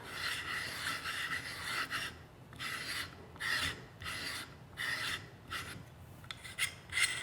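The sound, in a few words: threading buttstock onto MDT folding adapter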